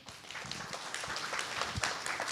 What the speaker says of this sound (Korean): 우리 10조에게도 박수 함께 보내주세요